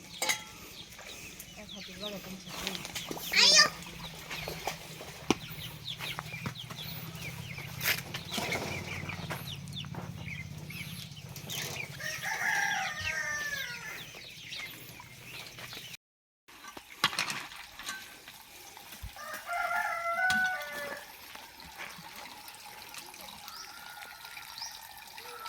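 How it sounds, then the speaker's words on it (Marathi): Chickens and small chicks cluck and peep intermittently on a farm, with running water splashing nearby and brief voices in the background; a short silent gap breaks the sound midway. "कोंबड्याची पिल्लं"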